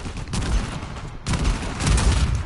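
Gunfire from an Uncharted 4 multiplayer match: dense, continuous bursts of shots with a brief break near the middle, loud and close throughout.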